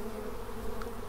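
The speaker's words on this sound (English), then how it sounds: "I'm just watching the bees trying to get in." Dense, steady buzzing of many honey bees close up at a hive entrance, a continuous droning hum with no voices.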